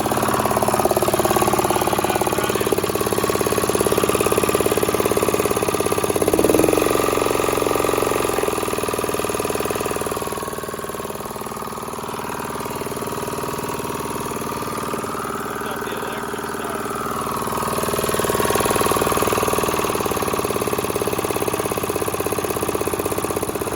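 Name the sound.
old hydraulic roller's motor running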